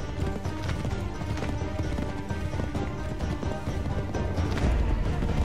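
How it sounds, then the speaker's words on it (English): Horse hooves pounding at a gallop in Assassin's Creed 3, a dense, continuous clatter up close mixed with game music and other in-game sounds. "Horse. Horse. Stupid horse kept getting stuck."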